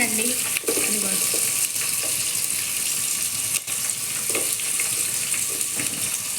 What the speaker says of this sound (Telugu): వీటిలోనేమో ఇదిగోండి ఉల్లిపాయలు. ఇవి బాగా దోరగా వేయించుకోవాలండి.